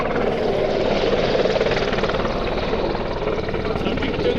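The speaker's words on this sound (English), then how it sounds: "absolutely need a shot of this helicopter here." A helicopter flies over an Italian race track, its loud, steady rotor and engine roar close and dominant throughout with no pauses.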